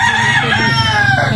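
A fighting cock crowing loudly and close, one sustained rooster call filling the whole moment with no other sound.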